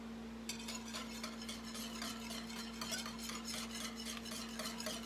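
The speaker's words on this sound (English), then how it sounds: "Get it stirred up a little bit there." Gravy stirred in a pot, a rapid run of close scraping, clinking strokes of a utensil against the metal over a low steady hum, with no one talking.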